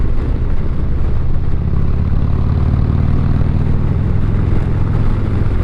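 A motorcycle ridden along a street produces a loud, continuous engine drone mixed with rushing wind, steady throughout with no talk.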